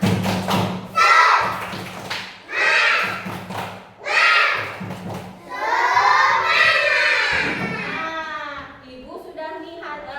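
A class of first-grade children performing a rhythmic spirit clap during a maths lesson, steady patterned claps and thumps with their shouted chanting voices rising in excitement, loud and close, ending in a cheer.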